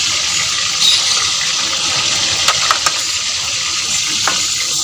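Chopped onions fry in hot ghee in a pan for a spicy potato-and-egg curry. A steady, loud, hissing sizzle fills the whole stretch, with a few faint clicks.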